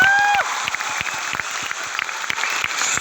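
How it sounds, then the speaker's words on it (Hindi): Audience applause fills Bapu Sabhagar hall during a coaching-class event, sustained clapping from a large crowd with distinct individual claps standing out, following a brief spoken call at the start. "के लिए जोरदार तालियां बजनी चाहिए।"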